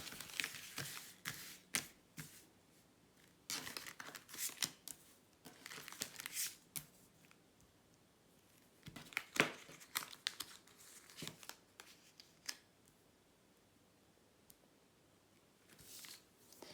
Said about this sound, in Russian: Для бубновой дамы выкладываем 3 рандомные карты, которые завершают расклад.